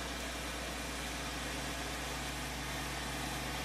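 A tractor engine in Farming Simulator 2013 runs at a steady, unbroken drone, with a constant hiss over a low rumble and no talking.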